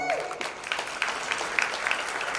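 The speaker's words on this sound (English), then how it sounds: "please give them a big round of applause" Audience at an award night in Houston applauding honorees: steady, fairly close clapping from many hands with a few sharper claps standing out, lasting the whole stretch without talk.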